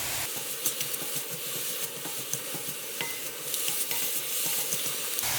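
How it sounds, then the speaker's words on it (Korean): Seasoned greens (namul) stir-fried in oil in a pan, a steady close sizzle and hiss running throughout with light scraping of the stirring utensil, no voices. "잠깐만 볶아주면 돼요."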